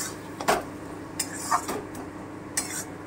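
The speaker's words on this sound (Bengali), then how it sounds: "একটু নেড়ে নেব।" A utensil stirs chicken with ground pepper and ginger paste in a pan, making a few separate close scrapes and metallic clinks over a low background hiss.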